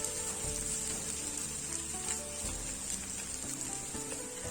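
Potatoes fry in hot oil for a crispy hotel-style potato fry, with a steady close-up sizzle and crackle and occasional scraping of a spoon stirring through the pan.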